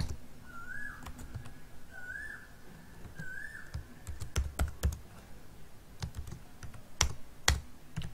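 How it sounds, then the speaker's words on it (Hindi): PHP code being typed into a file on a computer keyboard, with scattered close key clicks that grow into sharper bursts, while three rising whistled bird-like notes sound faintly in the background early on; no talking. "अब उसके अंदर कोड करते हैं जिसके अंदर मैं लिख रही हूँ PHP।"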